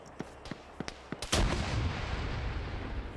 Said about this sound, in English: He's now up here throwing grenades overhead